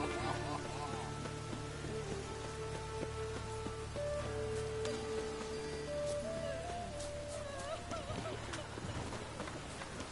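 Steady rain falls throughout a rainy scene in the video game The Witcher 3: Wild Hunt, a constant wash of patter under tonal game music and ambient sounds.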